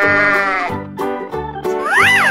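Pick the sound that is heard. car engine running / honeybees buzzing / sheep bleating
sheep bleating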